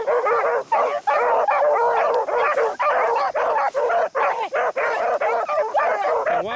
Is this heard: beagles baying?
yes